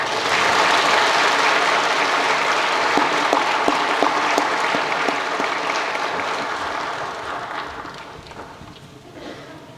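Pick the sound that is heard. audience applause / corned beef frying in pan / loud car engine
audience applause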